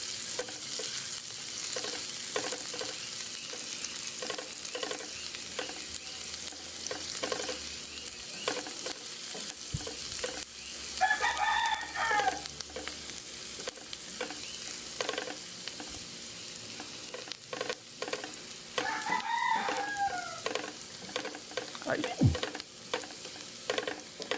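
Onion, garlic and ginger sizzle and fry steadily in a pan, with occasional stirring scrapes and clinks from a utensil; no voices.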